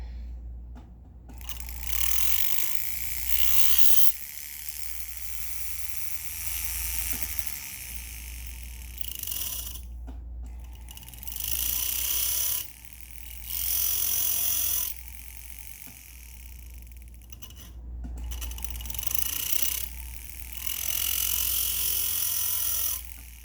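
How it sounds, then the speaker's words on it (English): Rotary tool or small grinder cutting notches into a serrated bezel, a buzzing whine in repeated bursts of a few seconds each, separated by brief pauses, close and fairly loud, with no talking. "And there you can see I'm just cutting all the little notches."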